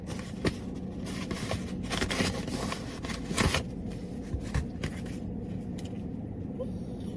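Paper rustling and crinkling as a priority mail envelope is handled and torn open, with irregular scrapes and crackles close by, fairly quiet throughout.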